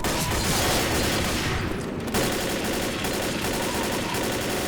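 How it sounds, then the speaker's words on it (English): Dense, sustained gunfire rattles on continuously in Left 4 Dead as survivors shoot down a barricade, with loud overlapping bursts filling the whole stretch and no pause. "We need to shoot down that barricade!"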